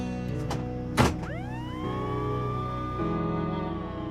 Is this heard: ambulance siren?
yes